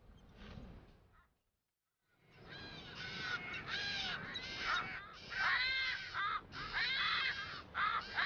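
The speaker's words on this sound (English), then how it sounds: "the world's most southerly bird of prey, the striated caracara." Striated caracaras, the world's most southerly bird of prey, call around the edges of seabird colonies on a South Atlantic island, giving a string of loud, harsh crow-like caws in repeated bursts after a brief silence.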